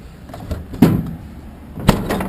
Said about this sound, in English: give it a good slam and closes the gap up pretty good